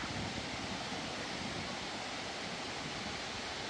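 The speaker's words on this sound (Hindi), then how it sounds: "तो पानी ऊपर से पता नहीं कहाँ से आ रहा है।" Water pours steadily into a small outdoor pool in Australia, making a constant broadband rushing like a small waterfall, fairly close and even throughout, with no talking.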